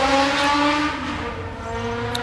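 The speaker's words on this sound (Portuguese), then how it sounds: "Todo CADEF tem uma moto de fundo." A motorcycle engine hums in the background with a steady, slightly wavering drone and revving quality that carries on unbroken for about two seconds; no one speaks.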